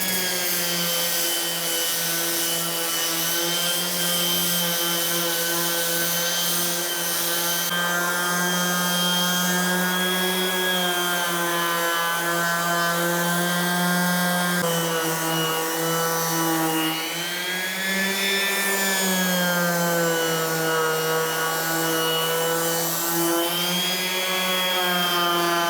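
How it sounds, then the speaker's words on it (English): A power sander whines steadily and loudly for a long stretch, sanding wood in a kitchen with 120-grit, its pitch dipping briefly as it presses into the wood, with no voices. "So let's just sand this off to 120 first of all"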